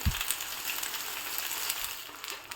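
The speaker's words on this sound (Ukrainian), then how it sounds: "Якщо смажите на великому вогні, як я, то їх треба перевертати почастіше" Sliced eggplant fries in a pan over high heat, a steady bright sizzle and crackle with a light thud of stirring at the start, continuous and close.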